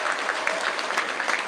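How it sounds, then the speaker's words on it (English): Sustained applause from an audience at a school prize giving assembly, a dense, steady wash of clapping that continues without a break throughout. "Another round of applause for Lucas, please."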